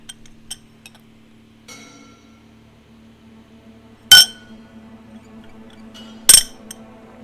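A glass is set down on a hard surface twice, each a sharp, bright clink several seconds apart, close and loud in an otherwise quiet room with a faint hum.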